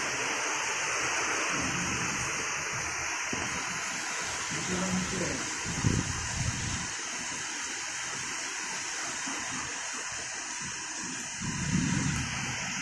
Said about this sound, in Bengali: কি বৃষ্টিটাই না হচ্ছে